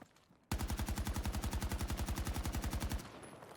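Automatic rifle in Battlefield 2042 fires one sustained, rapid burst of about two and a half seconds, evenly spaced loud cracks close up, then cuts off into a faint ringing tail.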